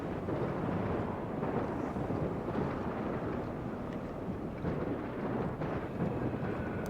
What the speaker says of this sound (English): This goddamn storm.